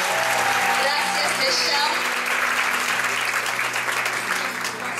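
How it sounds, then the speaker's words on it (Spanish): An audience gives sustained, loud, dense applause as a singer is welcomed on stage, with voices heard under the clapping. "¿por qué no me ayudas a invitar a Michelle al escenario con un aplauso muy caluroso?"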